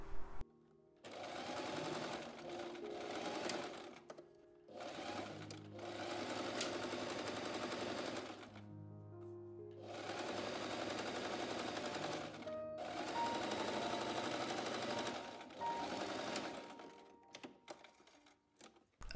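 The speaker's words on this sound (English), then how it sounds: "And then sew the shoulder seams together and the side seams together." Sewing machine stitching the shoulder and side seams of an A-line summer dress, running in several steady whirring bursts separated by short pauses, close and clear with no talking.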